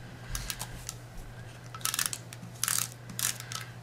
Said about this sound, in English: Take a little bit of snail adhesive